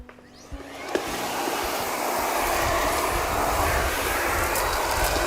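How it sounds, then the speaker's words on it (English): Miele Complete C3 cylinder vacuum cleaner with its parquet brush running steadily on a parquet floor, a loud continuous motor roar and airflow after a click near the start, with no talking. "Once the brush is clicked into position, you can start vacuuming."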